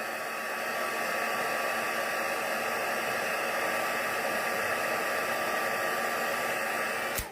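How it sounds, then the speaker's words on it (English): A craft heat tool blows steadily at close range to dry a wet handmade card, giving a loud, unbroken whooshing hiss that runs for about seven seconds before cutting off abruptly. "I might just give it a wee, try with the heat tool, just see that it will do that."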